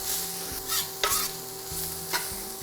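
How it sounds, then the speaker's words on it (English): Green peppers fry in a pan of residual oil and beef fat for a cheesesteak, a constant close sizzle broken by a few scraping stirs. "We're going to go in with our green peppers, and they're going to cook in all the residual sort of oil and beef fat there."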